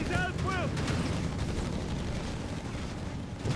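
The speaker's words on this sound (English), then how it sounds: "We got the Sherman move here bombarding German forces" Heavy rumbling bombardment from a Sherman tank firing on German forces in Company of Heroes 3, a continuous loud roar of shelling beneath brief voice fragments at the start.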